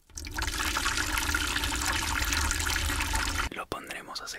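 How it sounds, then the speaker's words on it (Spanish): Water runs steadily as hair dye is rinsed out, a loud continuous splashing wash lasting about three seconds before cutting off into a few softer drips and handling sounds. "Retiramos con agua."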